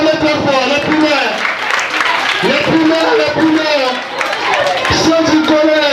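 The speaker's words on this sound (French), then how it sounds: "Ceux du primaire, acclamez très fort, les primaires." Primary school pupils at a private school event cheering and clapping loudly, a continuous roar of young voices close by with chatter mixed in.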